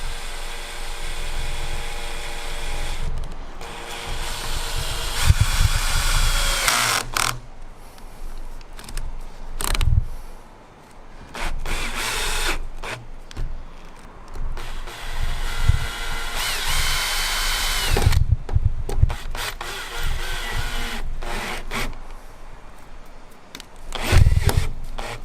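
A power drill drives self-drilling, self-tapping screws into roof clips on a Boxer camper van, with repeated loud whirring bursts separated by pauses, clunks and handling noises close by.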